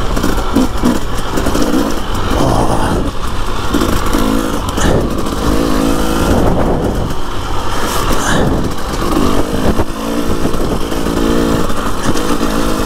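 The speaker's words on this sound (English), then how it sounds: "You only have to blip the throttle and they just go like" Husqvarna TE300i enduro motorcycle on a trail ride, its two-stroke engine loud and close, rising and falling through repeated throttle blips and revs without a break.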